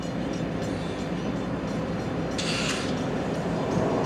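A CSX freight train led by a Dash 9 locomotive rolls past with a steady, dense rumble. A short, bright, high-pitched burst rises midway, likely the horn or a squeal, and no one speaks.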